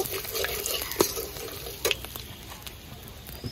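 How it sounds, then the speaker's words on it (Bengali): Whole black peppercorns, cloves, cinnamon and two cardamom pods sizzle in hot oil in a pan while being stirred, with scraping clicks of the spoon at about one and two seconds over a steady close crackle. "এখানে আমি একটু 4-5টা গোলমরিচ, একটু লং, সাথে দিয়ে দিচ্ছি দারচিনি আর 2টা এলাচ। একটু নাড়িয়ে নেব।"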